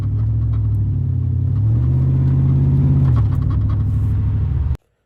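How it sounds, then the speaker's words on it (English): A 2001 Chevy Silverado pickup with a swapped 6.0 engine and a newly fitted fuel pump rumbles loudly while driving. A deep engine drone rises and falls through the gears for several seconds before cutting off abruptly. "this next clip that I'm about to add is the first drive of when I put the fuel pump in the truck"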